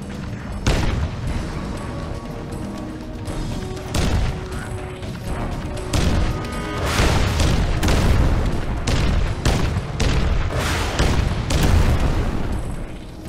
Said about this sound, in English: It's a fucking tank.